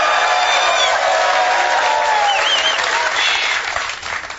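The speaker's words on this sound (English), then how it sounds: "Give yourselves a round of applause for them." Studio audience at a morning sports talk show bursts into sustained applause with scattered cheers and whoops, loud and dense throughout before tapering slightly at the end.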